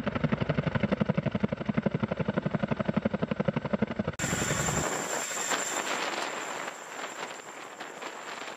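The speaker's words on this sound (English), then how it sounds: "The Boeing CH-47 Chinook is a two-rotor helicopter made by Boeing Vertol." Boeing CH-47 Chinook twin-rotor heavy transport helicopter, its rapid rhythmic rotor thumping loud and close, then giving way to a rougher broadband engine and rotor roar.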